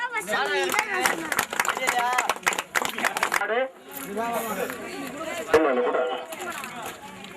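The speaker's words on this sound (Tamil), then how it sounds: "கைதட்டுங்க." A crowd claps steadily at a bull race prize ceremony in Piravalur, a dense patter lasting several seconds that breaks off and then fades under continuing loud talk.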